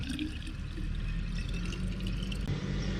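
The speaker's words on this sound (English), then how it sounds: "you lower down the bottle upright like this, okay, to fill up the water" Water gurgles steadily into a bottle held upright and lowered for water sampling, a continuous close filling sound with a brief dip near the end.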